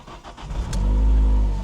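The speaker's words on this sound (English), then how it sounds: "Of course it starts up. It's a Ford, they always start." A Ford car engine cranks and catches, settling into a steady low idle that swells loud and close, with no talk over it.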